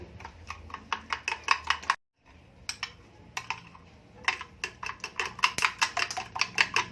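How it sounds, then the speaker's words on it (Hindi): Quick, rhythmic clinking of a spoon stirring a sweet-sour chutney mixture in a bowl, close taps in two bursts with a short pause between. "अभी इसको मिक्स कर दें।"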